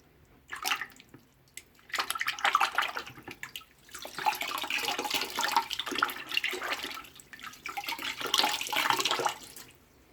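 Aquarium filter fiber squeezed and rinsed in water, close sloshing and splashing in uneven surges with short pauses between bursts of washing.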